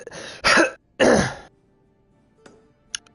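A man clears his throat in two loud, rasping bursts close to the mic, sounding rough and strained, like an old engine being turned over. Faint clicks and a short blip follow in the near-silence.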